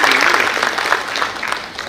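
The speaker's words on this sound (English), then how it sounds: "And I request everyone to please give him a huge round of applause for session." An audience at the Indian Steel Conference 2024 gives loud, sustained applause for the session chairman, dense clapping from a large crowd that slowly tapers off, with no talk.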